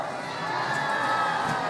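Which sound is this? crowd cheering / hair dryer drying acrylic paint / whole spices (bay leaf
crowd cheering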